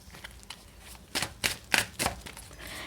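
Tarot cards shuffled by hand in a series of crisp riffling bursts, several quick flurries close up, with no talking.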